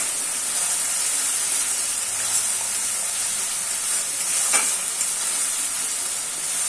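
Spice paste cooks down in hot oil for a hilsa curry with mustard and eggplant, giving a steady, close, even sizzle that holds without a break and has no voices over it.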